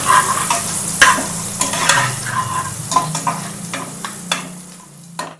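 Chicken and potato pieces fry with a ginger, garlic and green chilli spice paste while being stirred, giving a loud close sizzle broken by repeated clacks and scrapes of a spoon against the pan.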